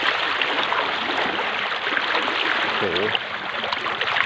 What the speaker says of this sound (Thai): เหมือนน้ำตกมากเลย